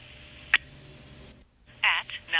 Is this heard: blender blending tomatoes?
no